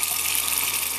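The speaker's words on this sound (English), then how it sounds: "inside the house, here is the sink. You can see that we do have a bit of pressure there, it's not too bad." Tap water running into a sink inside an off-grid cabin fed by collected rainwater, a steady, fairly loud hissing stream close by with no one talking.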